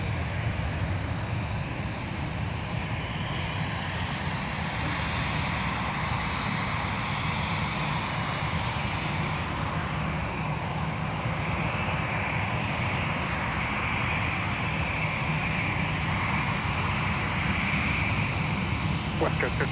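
Jet aircraft engines roar continuously in the distance at MSP airport, a broad, steady rush and rumble that holds for the whole stretch, with faint talk mixed in.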